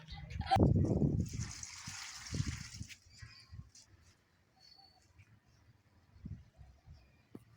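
Water splashes onto potted plants in a steady hiss lasting about two seconds, then stops, while a voice talks nearby and soft bird chirps come and go.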